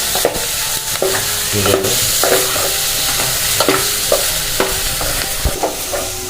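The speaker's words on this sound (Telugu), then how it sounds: "కొంచెం ఎర్రగా అయినట్టు కలియబెట్టుకోవాలి" Potato karam fry stirred in a hot pan, a spoon scraping in regular strokes about every half second over a continuous sizzle; one brief word is spoken.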